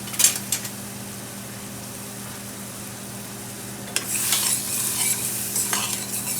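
A spoon stirs onions and other loaded potato bake ingredients in a pan: quiet at first, then scraping, sizzling stirring strokes start about two-thirds of the way through and continue steadily, moderately close.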